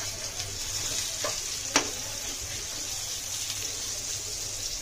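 Onions and tomatoes cook gently in a pan, softening for a white gravy, with a soft continuous sizzle in the background and a couple of faint clicks or taps near the middle.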